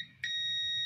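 A digital multimeter in diode mode sounds its buzzer: a single sharp, steady high-pitched beep starts abruptly and holds to the end, close and loud.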